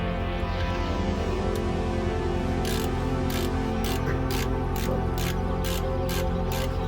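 Ratchet wrench clicking on the rear brake parts of a BMW 520d F10, working around the parking brake actuator; a close, steady run of sharp rapid clicks in repeated bursts over continuous mechanical noise, with no talking.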